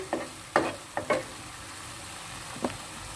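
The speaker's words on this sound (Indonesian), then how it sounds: "proses penumisan, efek dari dia ditumis, tomat mengeluarkan air, tidak bercampur dengan apa-apa, hanya dengan tomat dan minyak saja" Tomatoes are sautéed in plain oil and give off their juice, making a low, steady sizzle with a handful of sharp stirring clicks scattered through a few seconds.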